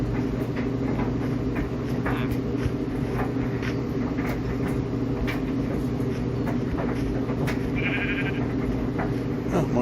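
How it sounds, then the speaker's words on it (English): Sheep bleat in the Minecraft Pocket Edition (Bedrock) game, a few short bleats over a steady rumbling background of game sound, fairly faint and scattered, with no talking. "Oh, more sheep."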